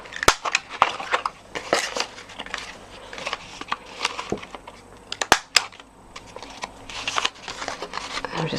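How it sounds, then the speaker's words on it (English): A corner rounder punch rounding off the edges of a paper box, a series of sharp, close crunching clicks and rustles in an irregular rhythm. "I'm just going to round off those edges just to give it a nicely finished look."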